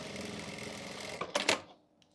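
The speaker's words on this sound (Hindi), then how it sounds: "यहाँ पे हमें कच्ची सिलाई लगा लेनी है।" Sewing machine running steady baste stitches along the elastic waistband of a wide-leg plazo pant, a continuous close whir that ends in a few sharp clunks before stopping.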